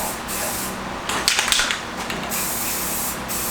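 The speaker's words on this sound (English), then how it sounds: "these guys are just getting a good dose of clear coat right now" Spray gun laying clear coat onto motorcycle fenders for a 1979 Odyssey FL250 restoration, a close, steady hiss of atomized spray with brief louder bursts in the middle, no voices.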